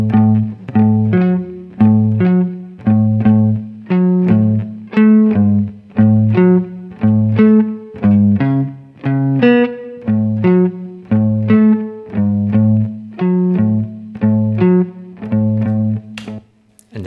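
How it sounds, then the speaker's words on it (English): A melody in distinct plucked, slightly effected tones is played in an uneven, golden-ratio-based rhythm, each note clear and separate, loud and alone without talk. "So what if we played that melody in that golden ratio rhythm we created?"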